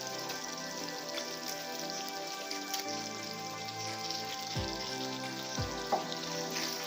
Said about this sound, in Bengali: এবার আমি এর মধ্যে চিকেনগুলো দিয়ে দেব।